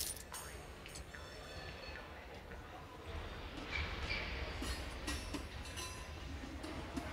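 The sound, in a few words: train running in the video game Bounty Train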